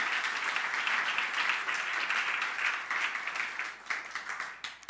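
A church congregation applauds in praise of the Lord at a Spanish-language sermon, dense steady clapping that fills the room before thinning into scattered claps near the end.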